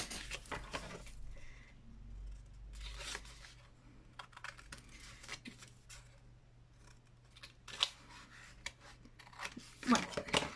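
Scissors cutting scrapbooking paper during a craft session making a small scrapbook case, with a few crisp snips spread across a low background hum, close and fairly faint.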